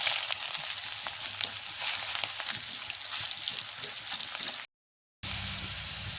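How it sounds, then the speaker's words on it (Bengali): Chopped onions frying in hot oil in a wok make a close, continuous crackling sizzle with light stirring. It is briefly cut to silence near the end and then resumes. "পেঁয়াজটা আমার ভাজা ভাজা হয়ে চলে আসছে।"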